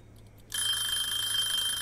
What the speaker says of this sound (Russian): Нет, сначала выключаю, потом выключаю будильник.